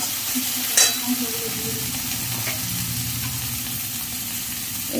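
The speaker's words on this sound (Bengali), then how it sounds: "এটাকে আমি একটু এখন কষে নেব ভালো করে" A paste of ground cumin, ginger and chilli sautés in a pan with a continuous close sizzle, stirred with occasional scrapes and a sharp clink near the start, steady and moderately loud without speech.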